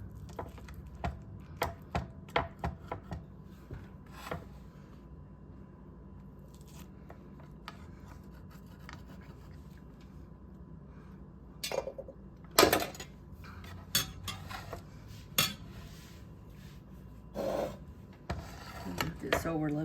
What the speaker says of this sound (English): I'm gonna cut a slice.